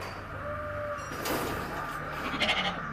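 Sheep bleat amid the clatter of a metal loading area, a few distinct calls rising over a steady mechanical background hum, with no talk.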